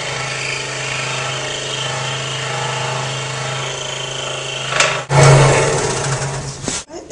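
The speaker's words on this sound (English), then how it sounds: "I'm going to cut around the base in a clockwise direction, which means I feed the wood counterclockwise" A saw runs with a steady motorized whine as its blade cuts around a wooden cupcake base, close and loud, then surges into a harsher, louder burst of cutting before stopping abruptly near the end.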